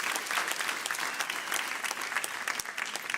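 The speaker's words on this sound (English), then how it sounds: "A round of applause for all of those nominees, please." A conference audience at an award ceremony during the Cardano Summit 2025 applauds the nominees with steady, dense clapping that holds at an even level throughout.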